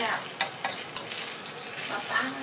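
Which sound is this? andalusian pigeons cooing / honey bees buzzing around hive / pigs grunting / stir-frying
stir-frying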